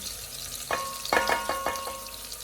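Green onion oil sizzling and frying in a wok, a steady hiss broken by several louder bursts of crackle as it is stirred, close and with no voices.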